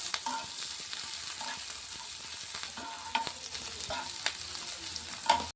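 Dried red chili and chopped onion fry in hot oil with a steady, dense crackling sizzle, with scattered spatters and occasional stirring clicks, close and continuous.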